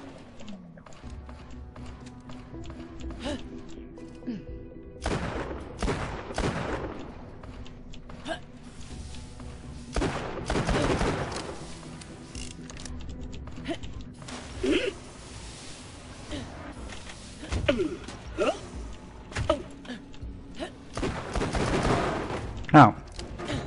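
Gunfire bursts in Borderlands: The Pre-Sequel, several loud volleys spread across the stretch with creaking mechanical game sounds and a steady background hum between them, voices talking at times.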